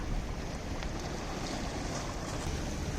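A steady, dense roar of sea surf washing over smooth rocks at Mandavi Beach, Ratnagiri, with wind buffeting the microphone throughout and no voices.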